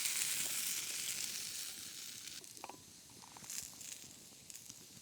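Sausages frying in butter over a campfire while wild camping, a soft steady sizzle with crackle and faint taps, fairly quiet and fading slightly, no talk.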